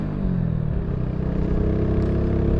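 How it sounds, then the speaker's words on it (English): A 2021 Mutt Mongrel 250 motorcycle engine revs up close, its loud, steady engine roar holding throughout with a brief blip near the end. "Decent sound coming out of the bike for a little 250"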